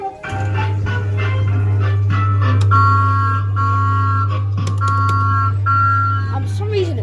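A standard Jolly Roger Thomas & Friends kiddie ride plays its electronic tune loudly over a constant low mechanical hum, with bright beeping melody notes and chimes throughout.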